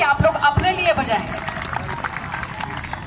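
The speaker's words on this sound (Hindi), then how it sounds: "उठा रहे तो एक बार जोरदार ताली आप लोग अपने लिए बजाएं" Audience applause at a Tohana event honouring sportspeople, a loud crowd clapping for about three seconds, mixed with babble and a voice at the start.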